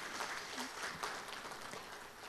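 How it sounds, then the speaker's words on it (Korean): Audience applause for a government health minister at a Korean conference event, dense clapping that stays faint and distant from start to end. "여러분 다시 한번 큰 박수 부탁드립니다"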